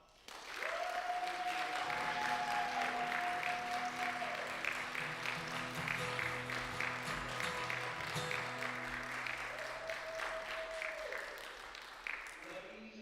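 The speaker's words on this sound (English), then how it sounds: "So I would ask the community at this time to give you a great applause." Congregation applauding steadily for several seconds, a sustained wash of clapping with music tones and a voice speaking underneath, tapering off at the end.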